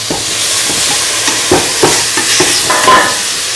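Tomato pieces sauté in a hot pan with a loud, close sizzle, broken by a series of scraping stirs that come in quick, uneven strokes, with no voices.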